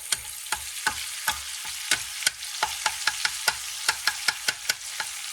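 Fresh tomato and smoked paprika are stirred in a sizzling paella pan, with a spoon scraping the pan in steady, repeated strokes over a soft frying hiss, close and without talk.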